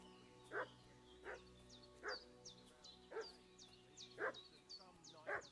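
A dog barks in the video game Kingdom Come Deliverance II, six evenly spaced barks about a second apart at moderate distance, over a low steady background hum with faint chirps.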